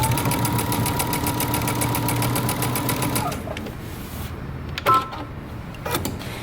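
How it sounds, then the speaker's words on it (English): A sewing machine runs a rapid, even stitching chatter along the top edge of jeans for about three seconds, then stops, leaving faint handling clicks and a brief bump nearby. "baste the top edge."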